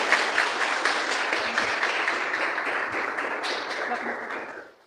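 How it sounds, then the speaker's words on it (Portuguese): Church congregation claps loudly during a worship service, a dense burst of applause that holds steady for a few seconds before fading out, with voices mixed in under the clapping. "Dê um aplauso bem forte ao Senhor"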